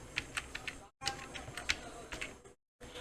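Quick, light taps on a computer keyboard as a file name is typed, a short burst of keystrokes with brief pauses, quiet and close with no talking.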